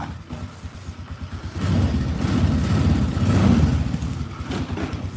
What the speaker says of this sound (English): I got the truck out warming up